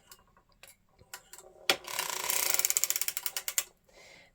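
A circular sock knitting machine is cranked by hand, starting with a few scattered clicks and then a quick run of loud ratcheting ticks before it stops, close up.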